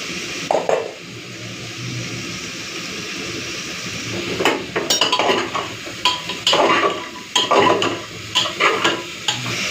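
Chicken frying in a pan with crushed garlic and chopped onion, steady sizzle under repeated metallic scrapes and clinks of a spatula stirring against the pan, close and without talk.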